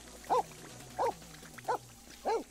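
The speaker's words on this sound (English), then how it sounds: "What are you barking at me for?" A dog in The Sims 4 video game barks four times in a steady rhythm, each bark short, moderately loud and close.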